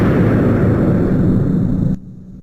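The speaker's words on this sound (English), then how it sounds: "or a cannon firing" A cannon blast sound effect: a loud, heavy explosive roar that sustains for about two seconds, then cuts off sharply into a brief low rumbling tail.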